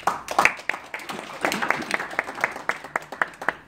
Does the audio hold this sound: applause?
yes